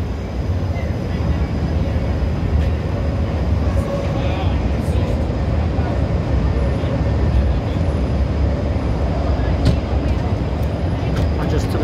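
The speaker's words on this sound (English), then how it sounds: "Speaking of the train, here it comes. There's one of them. I just love the sound." A Chicago elevated L train passes in downtown Chicago, a loud sustained rumble and roar filling the whole stretch, close by, with city noise around it.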